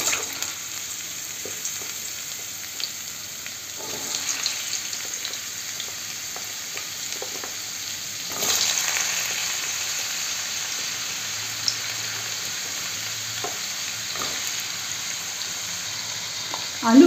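Potatoes fry in mustard oil in a wok, giving a steady, close hiss of sizzling with faint stirring clicks and no talking, the crackle swelling slightly midway.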